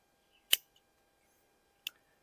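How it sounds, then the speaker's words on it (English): Scissors snip the lower leaves off tomato plants in a garden, two sharp, crisp isolated cuts about a second and a half apart, close and clear against near silence. "I brought some scissors out because I'm going to cut some of the lower leaves off"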